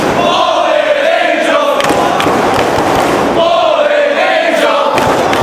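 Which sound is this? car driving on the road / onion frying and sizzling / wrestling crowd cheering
wrestling crowd cheering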